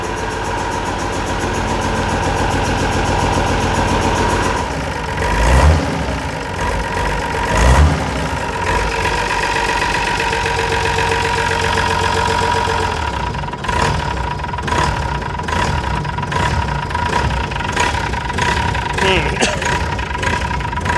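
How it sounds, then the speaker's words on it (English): Mercedes Unimog 416 diesel engine held at a steady high idle, a constant close droning hum with a pedal held down, a few brief knocks partway through, running alone without talk. "I managed to push the pedal down far enough to hold this high idle"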